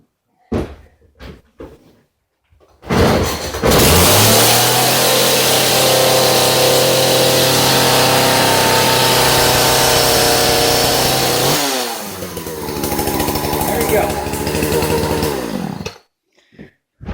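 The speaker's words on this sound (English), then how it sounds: "Then push choke lever in and continue to pull rope until engine starts." A Poulan chainsaw with a newly replaced carburetor takes a few sharp rope pulls, then fires up and runs loudly at a steady high rev before dropping to a rough idle and cutting off.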